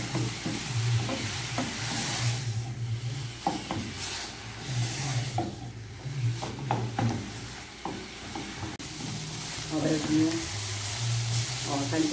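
Cheap second-grade ground beef sautés in a pan, with a continuous sizzle and frequent scraping, knocking strokes of a utensil stirring the meat, steady and close, with a low background hum.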